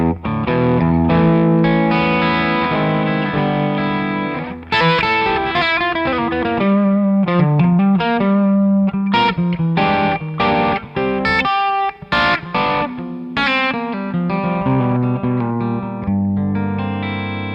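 Electric guitar plays through a REVV D20 amp with a simulated power section, distorted and chorused, in a long busy run of riffs and chords with brief breaks between phrases.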